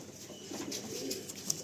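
Andhra pigeons at a breeding loft, a breeding-ready female among them, giving soft low coos that murmur steadily throughout, with a faint brighter chirp near the end.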